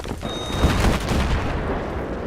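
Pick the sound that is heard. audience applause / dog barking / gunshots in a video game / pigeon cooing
gunshots in a video game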